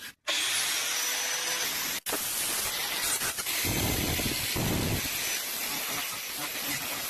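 Coarse 60-grit sandpaper rasps against the rusted metal of a washing machine in a loud, continuous, gritty scrape up close, with a couple of brief breaks as strokes restart.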